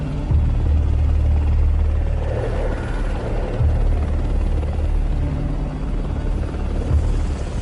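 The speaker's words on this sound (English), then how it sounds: "the plane gave up the unequal struggle to stay in the air. It went into a dive" Airliner engines roaring loud and steady as the crippled plane dives toward a mountain ridge, a continuous low rumbling drone with no voices.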